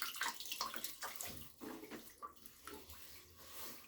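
Tepid water runs from a tap into a basin while shaving lather is prepared, heard as uneven close splashing and trickling in bursts that quiet briefly midway before flowing on.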